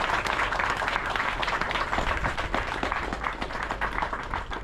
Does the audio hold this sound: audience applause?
yes